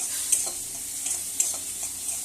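Tomatoes frying in a pan while cauliflower roast is made, a steady bright sizzle with a few soft stirring knocks, close and continuous with no voices.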